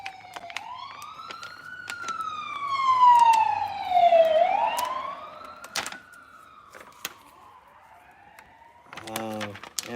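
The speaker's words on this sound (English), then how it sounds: "that was the ambulance or the fire department" An ambulance or fire engine siren wails in rising and falling sweeps as it passes at moderate distance, fading out. Clicks and a door-like knock follow, and a voice speaks near the end.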